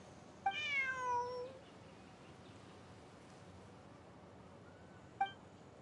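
A cat meows once, clear and drawn out, in the video game Genshin Impact, followed by a short chime near the end over a steady quiet background hum.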